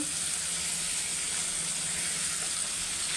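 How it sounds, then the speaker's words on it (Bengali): Onions and green chilies frying in hot oil in a pan, giving a steady, even sizzle and hiss that continues without a break from start to finish. "এখন সবগুলোকে সুন্দর করে হালকা একটু ভেজে নিব"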